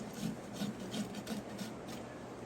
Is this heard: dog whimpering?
no